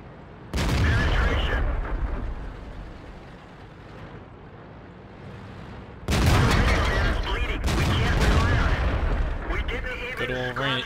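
Heavy tank cannon fire rolls through a World of Tanks battle with a T26E4 Super Pershing, sudden loud booming blasts that give way to rumbling reverberation, a lull, then another sustained barrage with a voice talking over it.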